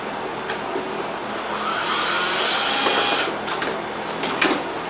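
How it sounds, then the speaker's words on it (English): A Healthway room air deodorizer and ozone generator runs with a steady broadband whirring hum, close and constant, with a few faint clicks near the end. "This is a room-by-room air deodorizer that makes ozone gas"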